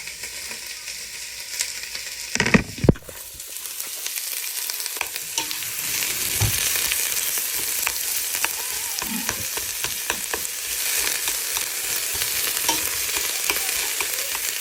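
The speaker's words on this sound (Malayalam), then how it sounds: "ചൂടായ എണ്ണയിലേക്ക് കുറച്ച് സ്പൈസസ് ചേർത്തു." Whole spices (cardamom, cinnamon, cloves, nutmeg shell and mace) sizzle in hot oil with a loud, continuous crackling fry, a sharp burst as they hit the pan early on, then steady spattering.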